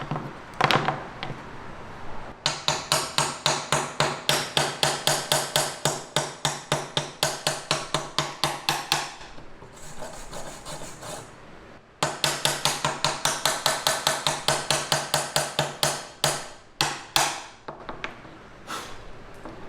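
A hammer chips welding slag off a stick weld in fast, rhythmic runs of sharp metallic taps, close and loud, with two long bursts separated by a short pause and a few scattered strikes at the end.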